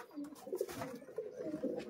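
Giribaj pigeons cooing softly at a bird sale, low throaty coos repeating in a loose rhythm, fairly faint and close with no talk.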